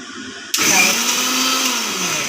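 A kitchen mixer grinder whirs into action after a brief quieter moment, crushing green chilies, garlic and grated coconut with a loud, steady high-pitched whine that holds to the end.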